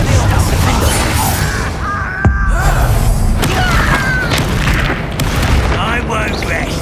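A Confringo spell explosion in Hogwarts Legacy: loud fiery booms and blasts over dense game combat noise, with a sharp impact near the middle and continuous rumbling layered with music and effects.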